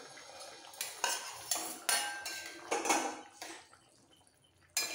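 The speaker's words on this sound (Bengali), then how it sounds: "এই সময় দিয়ে দেবো ভেজে রাখা পটলগুলো।" Fried potol (pointed gourd) pieces go into a pot of part-boiled potatoes for a vegetarian alu potol dalna, with close, clattering knocks and scrapes of a spoon against the pot in irregular bursts.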